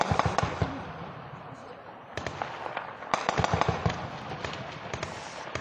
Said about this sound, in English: We can hear the sounds of gunfire breaking out somewhere along the Euphrates River